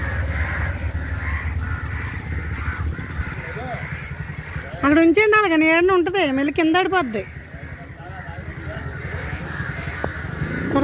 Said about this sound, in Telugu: చూసారా ఎన్ని కాకులు వచ్చేసినాయా? ఒక కాకి తెగరిసేస్తున్నాయండి.